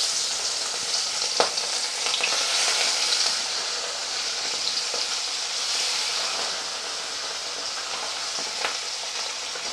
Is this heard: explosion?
no